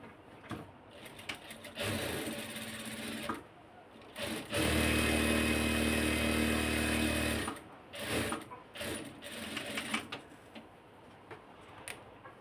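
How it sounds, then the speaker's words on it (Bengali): A sewing machine stitches a kameez band collar, a steady mechanical whir lasting a few seconds between quieter handling and fabric movement, close by. "তো এই যে এখন সেলাই করে নিব।"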